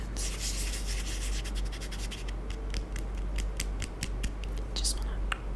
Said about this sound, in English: Let's do some rubbing sounds.